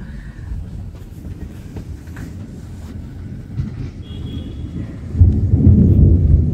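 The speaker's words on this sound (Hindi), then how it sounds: "बिजुली घड़घड़ी ऑलरेडी आरंभ होईजी आ एबे वर्षा किछि मात्रा रे आरंभ हेई जाउजी" Thunder from Cyclone Montha over Rourkela, Odisha, rumbles in long low rolls over light rain, swelling into a louder, heavier roll near the end.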